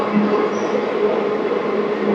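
A steady broadband rumble of a passenger train rolling into a platform at Bangarapet Junction, continuous wheel and carriage noise with a faint high squeal near the start, heard from on board without any talk.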